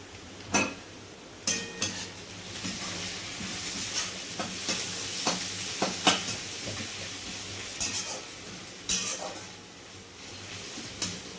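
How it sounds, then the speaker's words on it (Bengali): Onions frying in a pan while a pumpkin mash is being made, a soft continuous sizzle broken by intermittent sharp clinks and scrapes of a utensil against the pan. "এদিকে পেঁয়াজটা এখনও ভাজা চলছে"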